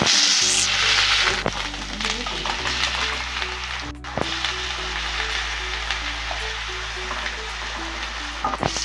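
Spices with ginger paste and black cumin frying in hot mustard oil, a dense continuous crackling sizzle with scattered pops and a background hum, steady and fairly close, no talk.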